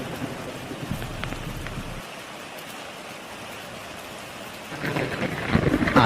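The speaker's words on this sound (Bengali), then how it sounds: "তুমি খাও, আমি বরং একটু বৃষ্টি দেখি।" Cartoon rain falls steadily with rolling thunder, a dense wash of downpour that swells louder near the end as a thunderclap builds.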